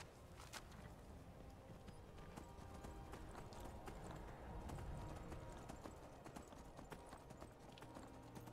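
Horse hooves clip-clop steadily in Skyrim, a continuous rhythmic beat at close range with a brief swell in the middle, under a low game ambience.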